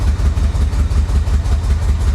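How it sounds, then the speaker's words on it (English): A 1985 Chevy Corvette, smoking heavily after rescue from a Florida swamp, runs with a loud, close, steady low engine drone that pulses rapidly, without a distinct rising rev. "I'm gonna hit the throttle."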